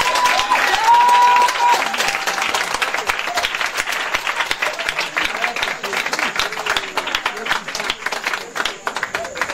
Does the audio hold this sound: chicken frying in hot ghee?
no